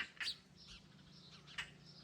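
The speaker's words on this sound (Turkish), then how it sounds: "Güzel kuş." Two short, bright chirps of a European roller, spaced about a second apart, over a low steady hum.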